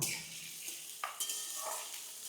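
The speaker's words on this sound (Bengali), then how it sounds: "এবার এই সবজিটা এবার নাড়াচাড়া করব" Vegetables, beetroot among them, fry in a pan for a cauliflower curry. A soft sizzle sits under a few scraping stirs and light clinks of a utensil against the pan, close and quiet, with no talking.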